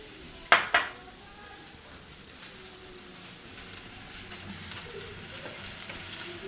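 Oil sizzles and spits quietly in a pan, with two sharp metallic clanks of cookware near the start, followed by a soft, steady frying hiss throughout.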